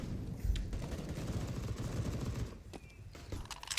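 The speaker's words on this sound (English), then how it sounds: "The SMGs ring out from top Banana." Rapid submachine gun fire in a Counter-Strike match, a dense continuous crackle of shots with faint footsteps, steady and fairly loud across the whole stretch.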